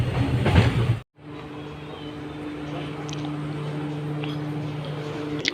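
A train idles at Solapur railway station, its low engine hum steady and close, with a brief sharp cutout near the start and faint clatter in the background.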